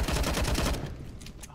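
Rapid burst of gunfire fired through a wall in the video game CS:GO on the map Cache, a loud dense volley lasting under a second, followed by fainter scattered shots, no talking.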